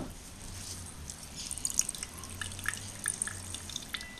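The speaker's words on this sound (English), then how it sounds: "Not a lot of dirty water coming off, a little bit." Dirty water drips off a homemade char cloth filter in small irregular drops, close and fairly faint over soft background noise, with no talk.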